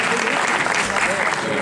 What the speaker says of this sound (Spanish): Recibamos con un fuerte aplauso al coro Aires de Antequera